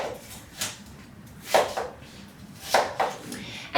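Knife cutting apples in half on a cutting board for apple pie: a few sharp, crisp chopping knocks spaced about a second apart, close up over a quiet kitchen background.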